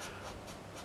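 A Giotto Turbo glitter pen scratches across paper in close, steady strokes with a soft dry rasp, heard alone with no talk.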